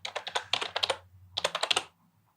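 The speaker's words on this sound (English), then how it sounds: "Now you guys are going to hear me typing" Typing on a computer keyboard, close and crisp, in two quick bursts of rapid keystrokes separated by a short pause, with no talking.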